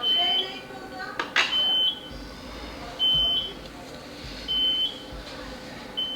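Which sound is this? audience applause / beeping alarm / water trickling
beeping alarm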